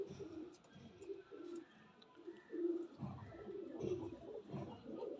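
Pigeons coo in soft, repeated throaty phrases close to the microphone, a paired teddy breed kept in a loft, with several overlapping calls and no speech.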